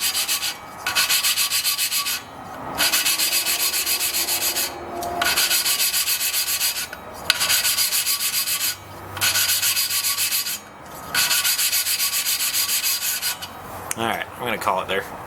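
Air compressor valve being lapped with worn grinding paste, a steady gritty rubbing and rasping in repeated strokes of about two seconds, separated by short pauses, close and loud, with no talk.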